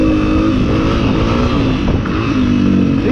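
Honda CRF 250F dirt bike engine revs loud and close without pause, its pitch rising and falling as the throttle twists.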